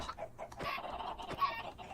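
Chickens in the Minecraft video game give short, soft clucks in an uneven rhythm, heard alone and fairly quiet.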